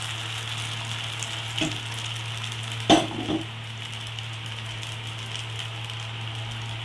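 Semolina batter sizzles steadily in a hot frying pan, a soft continuous hiss broken by a couple of brief clinks around the midpoint, with no talking.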